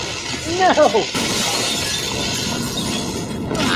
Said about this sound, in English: when he shatters the crystal